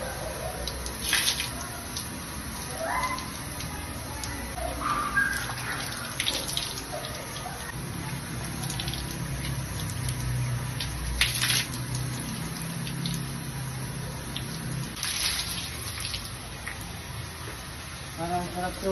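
A bath is being filled or used with running water from a tap, a continuous pour with splashes and drips. People talk intermittently over it.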